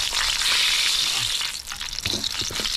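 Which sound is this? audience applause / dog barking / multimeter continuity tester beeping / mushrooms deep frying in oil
mushrooms deep frying in oil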